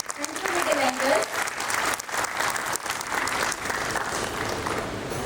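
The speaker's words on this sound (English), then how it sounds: "Let's give a long, loving round of applause to our little miracle." Sustained audience applause at a school annual function, a dense wash of many hands clapping steadily throughout at fairly even loudness, with faint voices and a brief tonal sound near the start.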